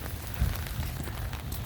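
Steady rain falls outdoors in autumn, a dense, even patter and hiss with a few heavier drops, close and continuous.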